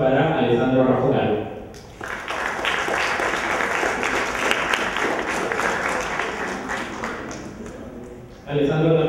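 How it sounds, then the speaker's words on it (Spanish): An audience at a citizen debate contest final applauds as a contestant is called up, a burst of dense clapping that rises after a spoken introduction, sustains for several seconds, then fades as talking resumes. "Un fuerte aplauso para Alessandro Rafugal."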